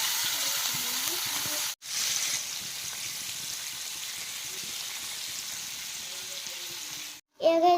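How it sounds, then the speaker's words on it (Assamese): A marinated whole fish fries in hot oil in a pan, a loud, steady close sizzle with a brief dip partway and a louder burst of spattering near the end. "সেই মাছটো আমি এতিয়া দি দিম বাহঁতে"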